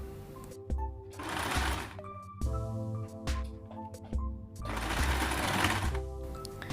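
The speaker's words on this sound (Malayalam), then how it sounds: "സ്റ്റിച്ച് ചെയ്യുമ്പോൾ എഡ്ജൊക്കെ എത്താനെടുത്ത് നീഡിൽ ഇറക്കി വെച്ചിട്ട് ഫൂട്ടർ മാത്രം പൊക്കിയിട്ട് വേണം തയ്ച്ചെടുക്കാൻ" Sewing machine stitching a cloth face mask, two sustained runs of fast whirring stitches separated by quieter pauses with clicks and handling noises.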